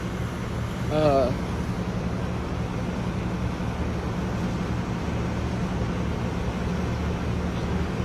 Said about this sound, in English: I'm just slowly driving away.